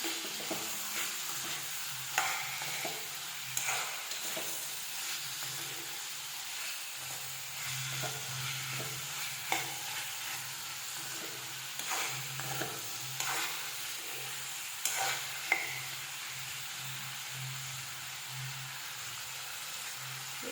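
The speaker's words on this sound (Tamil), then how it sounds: "வெங்காயம் நல்லா வதங்கட்டும்" Onions sauté in a pan with a continuous soft sizzle and hiss, broken by occasional scraping knocks from stirring, close and fairly quiet throughout.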